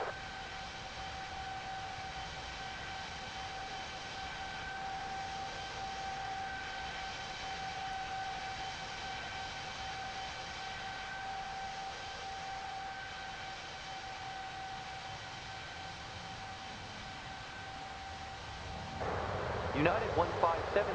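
A steady, droning jet engine hum from an airliner on the runway in the World of Airports game at Washington, holding constant for a long stretch before louder clattering bursts break in at the end.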